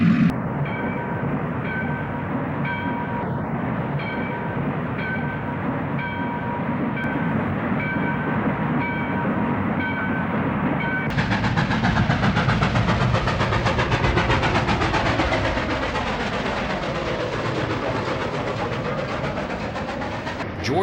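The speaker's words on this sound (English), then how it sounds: "Chuck Snyder caught passenger train action there in 1956, with E-units doing the honors." Pennsylvania Railroad passenger train from 1956 hauled by E-unit diesel locomotives, sounding a repeated horn over a loud rolling diesel rumble, then rushing close past with clattering wheels and rushing wind for several seconds.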